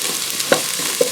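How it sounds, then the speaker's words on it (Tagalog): Garlic sizzles in hot oil in a pan while browning, heard as a soft, steady frying hiss with a couple of brief stirring clinks. "We just wait until the garlic is brown."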